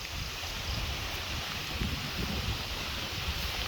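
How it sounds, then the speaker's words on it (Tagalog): Steady, loud wind after Typhoon Pepito roars and buffets the microphone with broad rushing noise and low rumbles, continuous throughout, with no voices. "oh malakas pa rin yung hangin at mas malakas sa taas"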